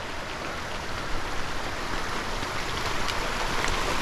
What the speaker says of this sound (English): my first obstacle is going to be crossing this creek